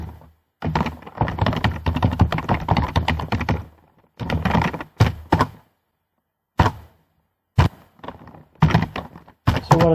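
Fast typing on a computer keyboard while filling in a survey, clustered bursts of close, crisp key clicks separated by short silent pauses, with no talking.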